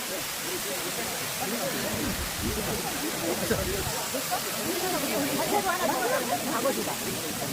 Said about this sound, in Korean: 수옥 폭포, 수옥 폭포.